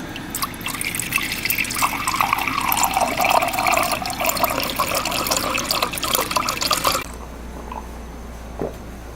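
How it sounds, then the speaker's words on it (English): Water runs steadily from a tap, filling a cup for about seven seconds in a close, continuous splashing stream, then cuts off abruptly, leaving faint room quiet and a small clink. "I should get a cup of water or something, drink some water."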